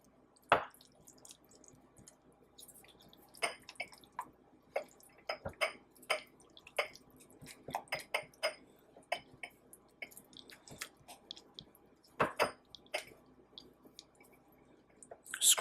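Homemade Big Mac sauce being mixed in a bowl, with irregular wet squishes, spoon clicks and scrapes coming at a steady working pace, close and fairly quiet, with no talking.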